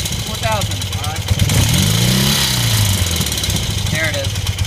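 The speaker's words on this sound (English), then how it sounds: "I'm bringing it all the way up on revs" A small engine being tuned with a Colortune plug is revved up toward 4,000 rpm, its loud buzzing drone rising and falling in pitch close by, with people talking over it.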